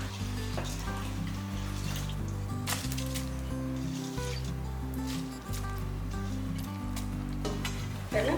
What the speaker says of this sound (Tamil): உலை கொதிக்கிற மாதிரி நல்லா கொதிச்சுக்கிட்டு இருக்கு